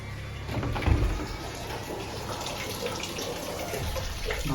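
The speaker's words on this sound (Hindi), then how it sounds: "भाई अचानक से वॉशरूम को पानी ऑन हो गया है।" A water tap runs in a washroom, a steady rushing stream with a louder splash near the start and then an even, continuous flow, with no one speaking.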